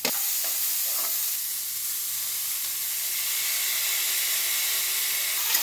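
Vegetables with carrot just added stir-fry in a hot pan, giving a loud, steady sizzle and hiss throughout with faint scraping of stirring.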